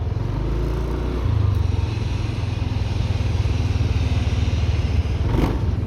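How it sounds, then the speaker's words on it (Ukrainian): A Yamaha Nmax 125 scooter engine idles steadily with a low, even putter, running close by without any talk over it. "приємний звук мотора."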